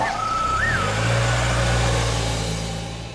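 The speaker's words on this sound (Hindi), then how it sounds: "आप गाड़ी तो चालू कर दीजिए।" A car's engine cranks briefly and catches, then settles into a steady, close idle hum with a faint higher whine fading early, no talk over it.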